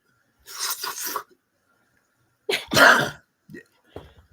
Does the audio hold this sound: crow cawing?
no